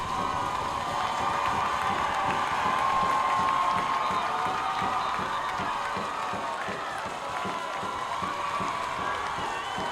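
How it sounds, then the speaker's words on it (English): A Tartan football crowd at a home game against Hastings roars in a steady, dense wash of cheering, clapping and whoops that holds loud and continuous for the whole stretch. "So the Tartan crowd is getting riled up here."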